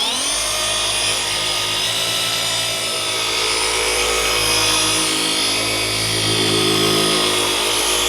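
A Flex dual-action polisher buffs a car's paint through a Eurofiber pad, giving a loud, steady machine whir with a constant pitch that runs unbroken the whole time.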